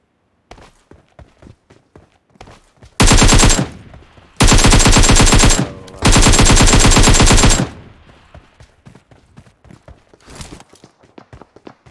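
Shotgun fire in PUBG Mobile: three dense, loud bursts of rapid repeated shots between about 3 and 7.5 seconds, with light footstep-like ticks before and after.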